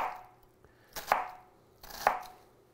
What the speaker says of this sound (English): halve, peel, and mince half the onion